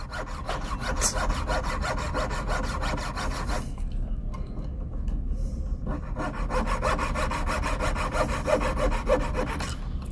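A handsaw cuts through a cast silver pendant with rapid, steady rasping strokes up close, pausing briefly twice before the sawing resumes at an even rhythm, with no talking.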